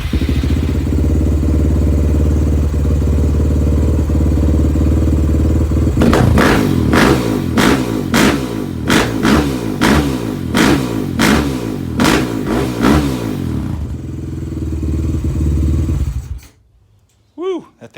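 A Suzuki LTR450 quad with a freshly cleaned fuel injector idles loudly, then revs hard in a series of about a dozen sharp, rhythmic throttle blips before the engine cuts off, with people talking nearby.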